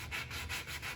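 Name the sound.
hand sanding a wooden picture frame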